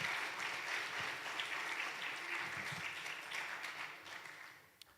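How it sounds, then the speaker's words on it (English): Church congregation applauding during a Sunday service, a steady dense wash of clapping that holds for several seconds and then thins out toward the end. "let's give them a big round of applause for doing the right thing"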